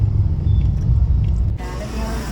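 Dense evening rush-hour traffic on a Mumbai road: a constant low rumble of car and truck engines nearby, with a brief hiss like an air brake, and the roar drops slightly toward the end.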